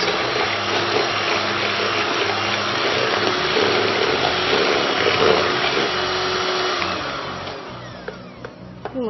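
An electric hand mixer whips eggs, sugar and vanilla into a wet cake batter, a loud, steady motor whir with a churning wash that holds for several seconds, then eases off near the end.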